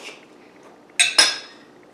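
Cutlery slices into a fried mashed-potato papa rellena on a plate, two quick close scraping clinks against the dish in a quiet room.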